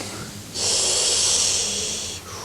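During a 1985 lecture on breathing exercises, a single long, forceful breath, rushing and airy, rises abruptly, holds for under two seconds and fades, with no talk over it.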